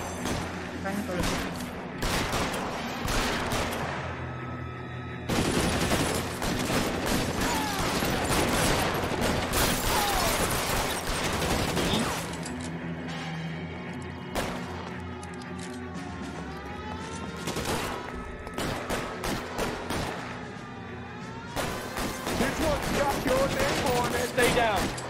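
Gunfire in a video game shootout, repeated bursts of sharp shots and rapid volleys coming in clusters with short gaps, loud and close, with voices talking in between.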